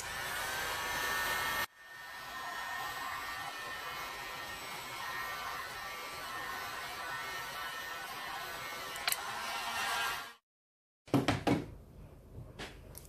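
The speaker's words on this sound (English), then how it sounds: "Gonna actually use my heat gun" A heat gun on its low setting blows over poured resin art with pearl beads, a steady close whooshing hum that cuts off, then returns briefly with a few sharp clicks and bursts.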